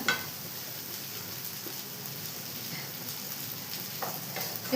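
Prawns roast and sizzle in a pan, giving a faint, steady frying hiss with soft scattered crackles and occasional light stirring, no voices.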